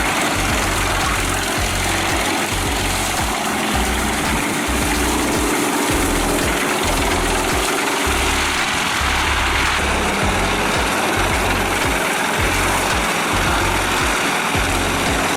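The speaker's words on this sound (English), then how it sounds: "With exceptional power, the PTH 1400/820 all-road Petzolato with chipper roars fiercely, driven by the Scania DC-13 engine with 550 horsepower." Heavy PTH 1400/820 all-road Petzolato wood chipper driven by a 550 hp Scania DC-13 engine, roaring steadily with a deep, pulsing low rumble and broadband mechanical noise throughout, loud and close with no talk.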